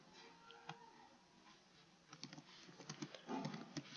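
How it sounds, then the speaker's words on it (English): Computer keyboard typing a message, faint soft clicks that start sparse and grow into a denser irregular run of keystrokes. "I am typing my message here."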